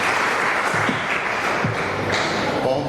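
Audience applause for the lecturers at a university lecture on the future of the book, a dense steady patter of many hands clapping throughout, fairly close and even in loudness.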